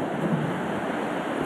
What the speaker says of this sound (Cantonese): 凡亞比朝早8點幾吹抵台灣花蓮，當地狂風暴雨